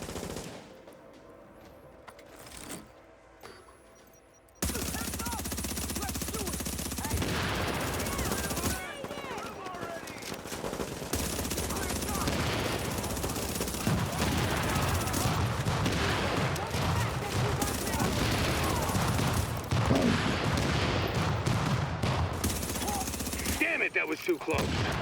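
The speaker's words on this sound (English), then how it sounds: "Might as well shoot some shit." Dense bursts of rapid automatic gunfire from a shooter video game, loud and nearly continuous after a quieter opening, with brief pauses between volleys.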